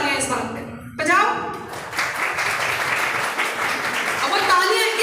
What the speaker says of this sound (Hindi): बजाइए तालियां इस बात पे, बजाओ।